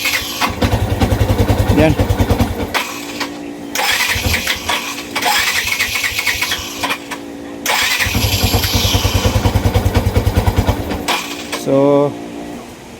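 A Yamaha FZi 150 motorcycle engine cranks and catches in repeated rough bursts, sputtering and dying between attempts as though misfiring and hard to start, loud and close, with someone speaking briefly near the end.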